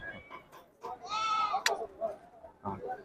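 Goats and kids bleat in a few wavering, nasal calls, one long bleat in the middle, with faint voices and farmyard noise around them at the Sira sheep market.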